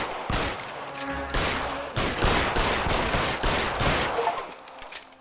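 A dense burst of rapid gunfire rings out in the L.A. Noire video game, with many close shots overlapping in a continuous loud volley before it tapers off at the end.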